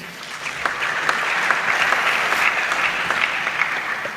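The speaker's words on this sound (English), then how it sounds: "we applaud them equally for that" Steady applause from a ceremony audience at the 75th anniversary of the Medical Research Council in The Gambia, a dense, even wash of clapping hands sustained throughout with no break.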